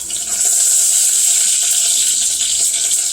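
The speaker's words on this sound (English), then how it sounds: "so I'm washing the rice" Rice being washed under running water at a kitchen sink, a loud steady gush of tap water lasting a few seconds with no talking.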